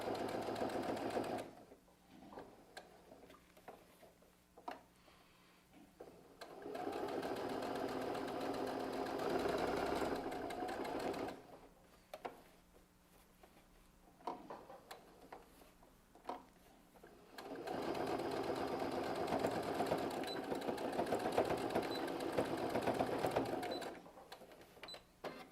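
A sewing machine stitches a pocket onto a fabric bag, backstitching at the start and end of the seam. Close, steady whirring comes in three long runs separated by quiet pauses.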